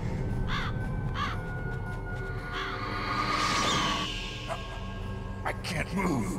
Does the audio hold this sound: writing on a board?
no